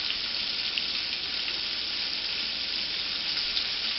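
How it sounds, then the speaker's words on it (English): Cube steaks frying in a shallow layer of vegetable oil give a steady, dense sizzle that hisses evenly and fairly close throughout, with no talking over it. "Start frying them, just like that. Just lay them in there."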